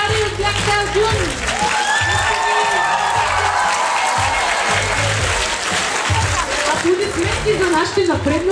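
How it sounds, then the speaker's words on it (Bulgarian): Loud crowd applause and cheering at a children's Christmas dance concert for young breakdancers, steady clapping sustained throughout, with a voice talking over it. "Аплодисменти за малките брекари от Black Style Dune!"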